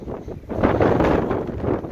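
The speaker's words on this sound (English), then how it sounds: "it's still super windy, so I'm sorry, the wind's just not going to die down" Strong wind buffets the microphone on the summit of Tom Dick and Harry Mountain in Oregon, a loud continuous roar with gusty swells across the whole short stretch and no voices.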